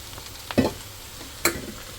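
Leafy greens tossed into a pan with shrimp give two brief scraping stir strokes over a faint, quiet sizzle, with near-silence between them.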